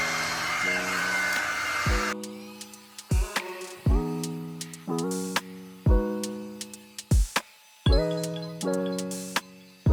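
A hair dryer runs on its low setting during detangling. It makes a whirring, tonal motor drone in repeated bursts that start and stop, with brief pauses and small clicks between them.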